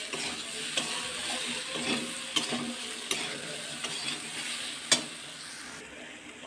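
Food being sautéed with salt in a pan, stirred for a Bengali home-cooked dish, with a steady close sizzle broken by several sharp clicks and scrapes of the spoon against the pan, no talking.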